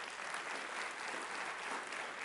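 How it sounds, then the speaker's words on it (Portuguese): A church congregation applauds during an evening worship service, steady broadband clapping from many hands filling the room, with no speech over it. "Então aplauda ao Senhor."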